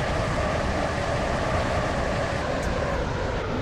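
A train in the Stepford County Railway game rolling toward Morganstown Docks, a steady loud rumble of wheels and motor continuing without a break.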